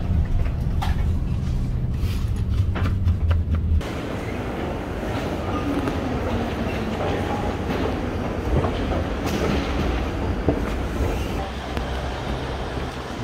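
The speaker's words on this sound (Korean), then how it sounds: "4시간씩 안 가고 기차 타고" A train rides along its rails with a steady, dense rumble and rattle from close by, and faint clicking over the track joints persists throughout, with no voices present.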